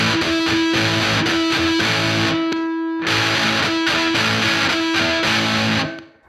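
An electric guitar plays loud, chugging chords through a Boss DS-1 distortion pedal. The chords ring in short rhythmic bursts with a brief gap midway, then cut off sharply at the end.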